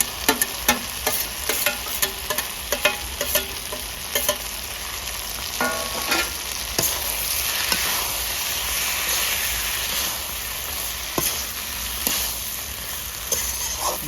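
Fried eggplant and fried egg are stir-fried in a pan in a village-style Bengali kitchen, a close, steady sizzle broken by repeated sharp scraping and clanking spatula strokes at an uneven rhythm, with no talk.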